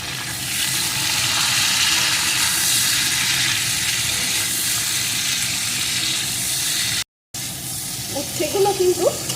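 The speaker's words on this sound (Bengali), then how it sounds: "এখন এই তেলের ভিতরে উচ্ছেগুলোকে দিয়ে দেবো সাথেই দিয়ে দেবো একটু লবণ এখন উচ্ছেটাকে একটু ভেজে নেবো" Slices of bitter gourd sizzle in hot oil with a little salt, a loud, continuous frying hiss that holds steady before a brief break and a softer, spattering stretch at the end.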